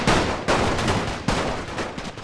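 Gunfire in The Great War video game as cavalry are shot down in front of a trench line, loud dense rifle and machine-gun volleys with repeated sharp cracks and rolling bursts, close and continuous.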